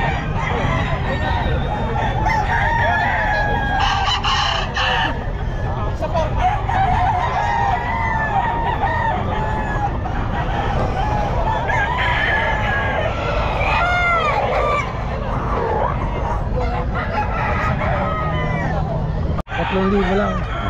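A bullstag rooster crows repeatedly amid a busy pet market, loud and close, with other fowl clucking and a constant babble of people talking around it.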